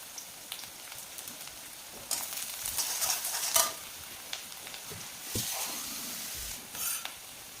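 Onions frying in a pan with turmeric added give a soft, continuous sizzle. Several louder bursts of hissing and stirring break in nearby, and no one speaks.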